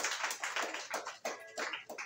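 Church congregation clapping during a worship service, a dense, continuous patter of many hands acclaiming together, steady and fairly close with no voices over it.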